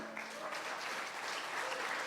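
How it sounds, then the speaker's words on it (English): Sustained applause from an audience at a summit talk, steady and dense clapping throughout with no speech over it. "Can I have a clap for me without glasses?"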